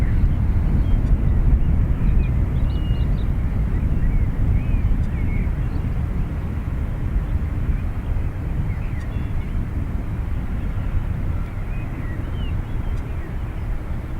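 A Beechcraft B200 Super King Air turboprop departing Dublin Airport's north runway produces a continuous, loud broadband roar with low rumble and wind buffeting throughout, with no voices over it.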